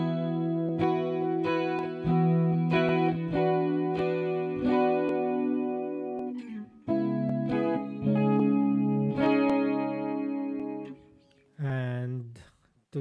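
Electric guitar through a Zoom G1Four multi-effects pedal with a stereo chorus patch, cabinet simulation and reverb, playing sustained, shimmering chords and single notes with a wavering modulated tone, loud and close, with a brief pause partway through.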